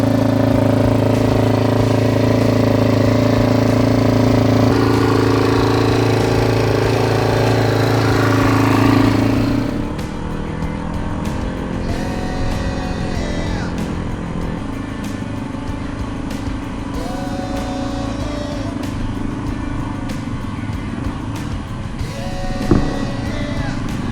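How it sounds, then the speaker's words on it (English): Dirt bike engine loud and steady for about nine seconds, then dropping to a quieter uneven idle that runs on to the end, with a brief louder burst near the finish. "I'm gonna go start my bike up."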